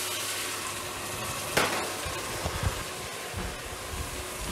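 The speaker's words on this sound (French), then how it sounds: "Il est temps de venir déglacer avec du vin blanc." White wine deglazing a hot pan of caramelized onions for French onion soup, giving a steady close sizzle and bubbling hiss with a few clinks of stirring, no voices.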